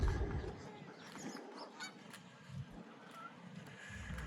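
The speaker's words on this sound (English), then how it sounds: "Geese are great talkers. I don't know what they have to say, but they say it all the time." Geese honk repeatedly by a lake, with several loud calls at irregular intervals over light wind and a low background rumble.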